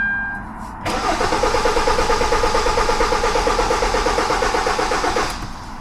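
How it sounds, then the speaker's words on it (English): A Kia Forte engine cranks with a rapid, even chugging rhythm for several seconds without catching, loud and close, then the starter stops. "So I'm going to go ahead and crank this engine over."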